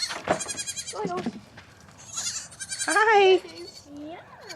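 Baby goats bleat in several short, wavering calls close by, scattered across the moment, with a person talking among them.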